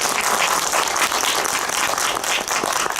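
Dense, loud applause from a cinema audience at CGV Apgujeong during a post-screening talk event, continuous clapping filling the room without pause.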